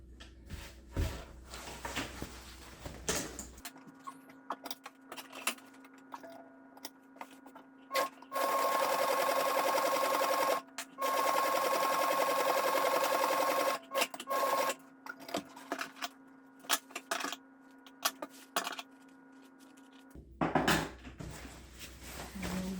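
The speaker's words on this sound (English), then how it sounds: "This is what I call easy sewing compared to the canvas work." A sewing machine stitches light fabric after heavier canvas work, running in two steady loud bursts of a few seconds each, with quieter handling clicks and pauses around them and no talking.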